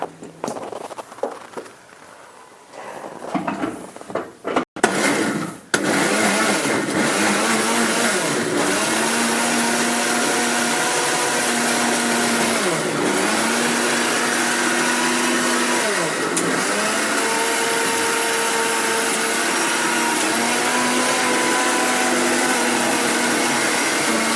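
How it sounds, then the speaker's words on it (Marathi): A mixer grinder blending muskmelon juice, starting after a few seconds of handling knocks into a loud, steady whirring drone with slight pitch dips as the load shifts, close and continuous. "आता चला आपण हे मिक्सर मध्ये काढून"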